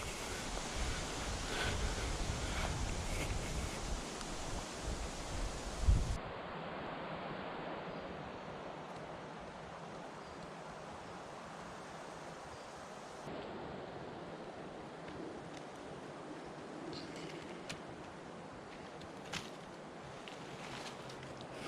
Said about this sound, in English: Not sure you can tell how windy it is.